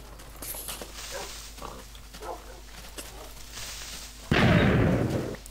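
A creeper explodes in Minecraft, one loud, broad blast near the end that follows a stretch of quieter game sounds and background voice.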